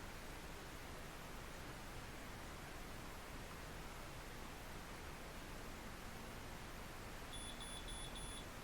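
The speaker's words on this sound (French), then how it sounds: "Quatre bips et on lâche." Steady hiss fills most of the stretch, then a short run of quick, faint electronic beeps from a Miracurl hair curler comes near the end.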